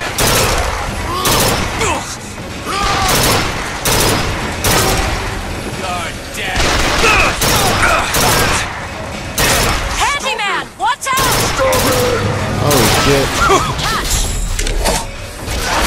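Burst gun firing in BioShock Infinite, a series of loud rapid bursts of gunfire with mechanical clanks and booms over a busy game soundscape, with someone talking at times.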